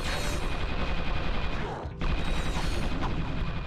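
Mini turret weapon firing in the video game Ratchet and Clank 2, a dense nonstop burst of rapid gunfire and mechanical clatter with one brief break partway through.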